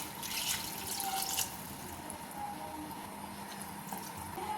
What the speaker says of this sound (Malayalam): ഇനി നമുക്കിതിലേക്ക് തേങ്ങയുടെ 2-ാം പാൽ ഒഴിക്കത് വേവാൻ ആവശ്യമില്ല.